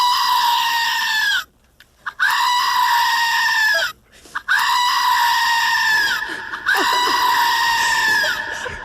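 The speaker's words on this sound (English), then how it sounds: "Okay, behold the screaming goat." A screaming goat novelty toy lets out three long, loud, harsh bleating screams in succession, each a sustained wavering cry with brief silent gaps between, up close with no talking.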